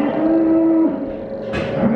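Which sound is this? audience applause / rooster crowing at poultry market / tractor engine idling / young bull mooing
young bull mooing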